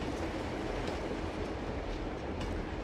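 Steady rumbling and rattling of a moving train car, the caboose, in the Uncharted 2 video game, a continuous dense rolling clatter at even loudness throughout with no talking.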